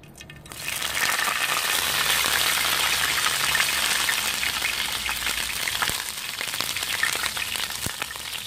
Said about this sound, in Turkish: Bol yağda kızartıyorum bunu.